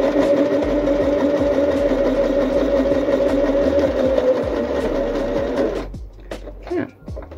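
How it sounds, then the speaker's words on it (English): A sewing machine runs steadily and loudly, stitching a line across with back stitching at both ends, its motor hum continuous for about six seconds before stopping, followed by faint handling noises. "And then you just want to stitch across, again back stitching at the beginning and end."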